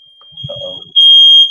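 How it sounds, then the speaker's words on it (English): A smoke alarm set off during gas cooking sounds a steady, piercing high beep that suddenly turns much louder near the end, with a brief low murmur of voice underneath. "Setting off the alarm."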